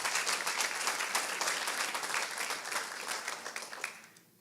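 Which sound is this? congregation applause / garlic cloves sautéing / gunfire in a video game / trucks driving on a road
congregation applause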